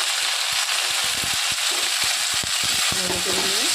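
Red amaranth greens fry in a pan with onion, garlic, cumin and chilli, giving a steady loud sizzle while a utensil clicks and scrapes at an uneven rhythm, with a few faint squeaks near the end.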